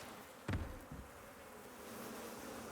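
Bees buzz in the survival video game Icarus, a faint droning hum around a hidden hive set in a wall, with a brief louder thump early on.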